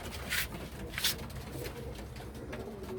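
Pigeons pecking at feed scattered on the floor of a loft, with a couple of short bright bursts of wing or feed noise and faint cooing close by, no talking.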